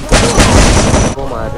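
Dense, loud gunfire in a video game tournament match, a continuous burst of close shots lasting over a second before cutting off abruptly, with a faint voice underneath.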